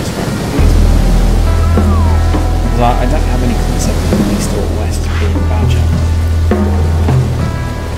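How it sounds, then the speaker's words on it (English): Rain in the Shelter video game, a loud continuous wash of hiss and surf-like rushing under low ambient tones, with someone talking over it throughout. "I think it's rain."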